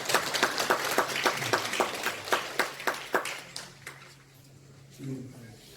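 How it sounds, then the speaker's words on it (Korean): An audience at a Hwaseong citizens' regional meeting gives a short burst of applause, with sparse, evenly spaced claps that fade out toward the end, followed by a faint murmur. "박수 한번 좀 부탁드리겠습니다"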